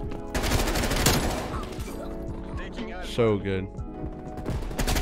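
Groza rifle fire in Black Ops Cold War rattles in quick bursts alongside other game sounds, with a player's voice talking over the shooting.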